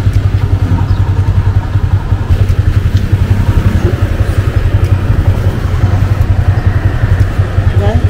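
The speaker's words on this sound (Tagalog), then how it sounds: "Ito na yung Grab bike natin guys." A Grab bike motorcycle taxi's engine runs in a loud, steady, close throb on a Saigon street.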